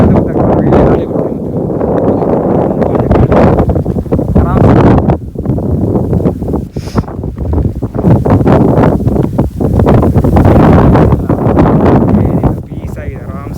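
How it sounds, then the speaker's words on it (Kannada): Strong wind on an open hilltop rock at Ethina Bhuja near Sakleshpura buffets the microphone in a loud, continuous roar with gusty surges, while people talk underneath. "ಒಳ್ಳೆ ಗಾಳಿ ಬರ್ತಿದೆ"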